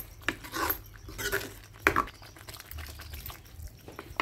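Water is poured into a cooking pan holding frying oil and urad dal, giving a few short, quiet splashing and sloshing bursts with small clinks between them and no voices.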